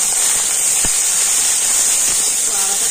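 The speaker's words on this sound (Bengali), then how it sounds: "তো আদাটা তেলে দিয়ে দিচ্ছি হালকা করে, আমি ভেজে নিচ্ছি" Ginger paste fries in hot oil with whole garam masala and cumin, a steady loud sizzling hiss that runs unbroken throughout, with a couple of faint utensil taps underneath.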